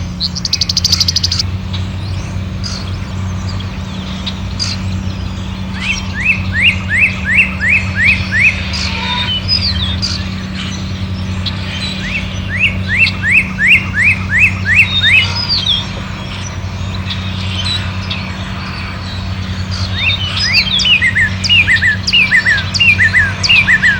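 A northern cardinal sings repeated series of clear, descending slurred whistles in several bursts, loud and close, over a steady low hum.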